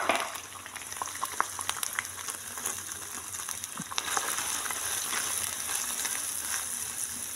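Onions frying in a pan for achari chicken, a soft continuous sizzle with scattered light stirring clicks, growing a bit fuller and steadier partway through.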